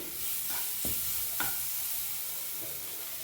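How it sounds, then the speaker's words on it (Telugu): Boiled rice is tipped into a pan and stirred for spicy hotel-style egg fried rice, a faint steady sizzle with a couple of brief scraping knocks near the start, without talking. "రైస్ వేసేసుకుని దీన్ని మొత్తం కలుపుకుందాము"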